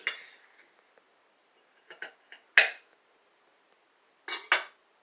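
A knife chopping a 1-inch piece of fresh ginger into small chunks on a cutting board, several sharp clacks: a burst near the start, two close taps near the middle, a single strong chop, then two more chops near the end.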